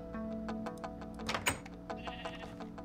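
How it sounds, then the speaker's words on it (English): Sheep in a survival video game bleat several times, the tones layered over a steady droning background, with a sharper burst near the middle and no talking. "Those sheep."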